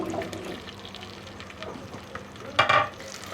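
Okra goes into hot cooking oil. A low bubbling fry runs under the whole moment, with a sharp splashing sizzle flaring briefly near the end.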